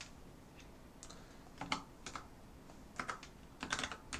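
Keys clatter on a computer keyboard in short bursts of clicks, some quick runs and some isolated taps, fairly close and quiet, with no one speaking.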